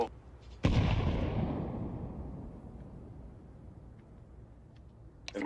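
A Counter-Strike 2 grenade goes off with a single sharp, loud blast, followed by a long rumbling decay that fades over several seconds, with a faint click at the end.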